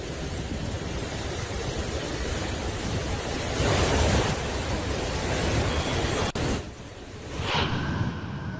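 Loud, continuous roar of the Beas River rushing from five opened gates of the Pandoh Dam in Himachal Pradesh, broad and steady like a torrent, swelling briefly and dipping near the end, with no voices.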